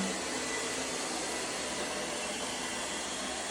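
An ONSON robot vacuum cleaner runs in zigzag cleaning mode, giving a steady, close, unbroken broadband whir and hiss of motor and suction with no talking over it.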